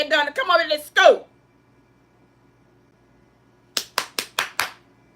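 Five quick, sharp hand claps ring out alone in a quiet room, evenly spaced in a brisk rhythm, after a short stretch of speech and a pause.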